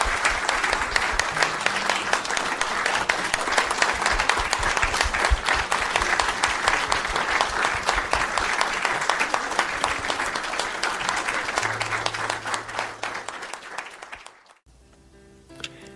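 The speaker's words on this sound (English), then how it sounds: "another round of applause for all of our speakers today" A congregation at an interfaith Sunday service applauds its speakers, a long, full, even roar of many hands clapping that holds steady and then drops off abruptly near the end.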